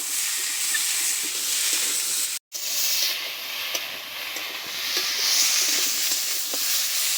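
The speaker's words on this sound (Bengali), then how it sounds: "আলুটা দিয়ে একটু নেড়ে চেড়ে কষে নিচ্ছি" Potatoes stir-fried with home-ground spices in a pan, a steady close broadband sizzle and hiss that runs unbroken apart from one brief dropout, with faint scraping ticks of stirring and no voices.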